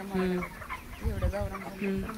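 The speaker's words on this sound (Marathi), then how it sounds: "तर हे बघा अशा बॉयलर कोंबड्या आहेत." Hybrid broiler chickens cluck repeatedly at close range in a 6,000-bird poultry shed, a busy cluster of short calls and murmurs rising and falling like a crowded coop.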